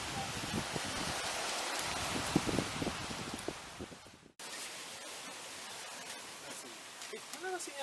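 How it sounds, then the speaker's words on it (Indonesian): Heavy rain pours on a small uninhabited island, Pulau Keluang in Aceh Jaya, as a dense, steady wash of noise that breaks off abruptly midway, then resumes as a softer, thinner patter. "Bahkan di daerah Grute turun hujan lebat."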